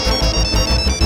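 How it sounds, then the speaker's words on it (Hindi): A telephone ringtone sounds loud and close in a Hindi TV comedy scene, a dense, sustained electronic melody with pulsing beats and no voices. "हमको लग रहा है फोन की घंटी बजी"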